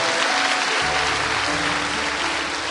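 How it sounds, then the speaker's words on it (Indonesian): A church congregation applauds for God during a sermon, a dense, loud, steady wash of clapping from a large crowd that carries on without a break. "Tepuk tangannya paling meriah buat Allah"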